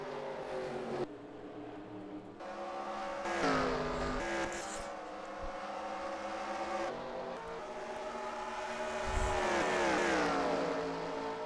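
Race cars in an Xfinity-series racing video game at Dubai scream past with high, rising and falling engine whines, several cars overlapping and revving in close succession, loud and continuous.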